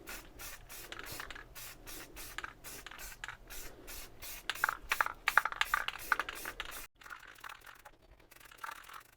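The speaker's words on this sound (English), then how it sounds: "All right, let's spray this one down." Spray can hissing paint onto a new replacement water pump for a C3 Chevy 5.7L 350, delivered in a run of short close bursts with handling scrapes between them.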